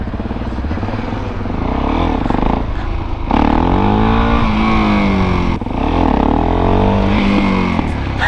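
A supermoto motorcycle engine revs loudly and close by, its pitch climbing and falling in repeated sweeps over a steady rumbling idle.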